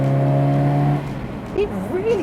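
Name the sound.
1977 Ford Cortina Mk3 with 1600 crossflow engine driving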